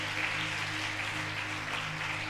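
A church congregation applauds during a Spanish-language sermon, a soft, continuous patter of many hands under sustained background tones.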